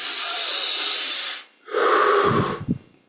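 A close, breathy airflow of slow breathing during meditation: a long, hissing breath, a brief pause, then a second slow, airy inhalation that tails off softly.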